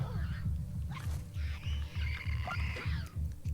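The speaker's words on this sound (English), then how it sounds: "God, I hate the clickers nearby." Infected clickers in The Last of Us Part 2 let out throaty, guttural clicking and rasping calls close by, over a steady rhythmic throbbing low pulse, with no talk over it.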